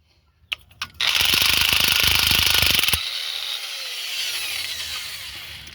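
A power tool loosens bolts with a loud, close, rattling two-second burst after a few sharp clicks, then the motor keeps whining steadily as it winds down.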